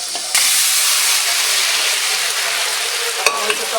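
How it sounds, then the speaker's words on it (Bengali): Bori, onion, green chili and garlic fry together in hot oil with a loud, steady hiss that bursts in after a brief pause and continues, with a few stirring clinks near the end. "বড়ি, পেঁয়াজ, কাঁচামরিচ, রসুন একসাথে ভাজা হতে"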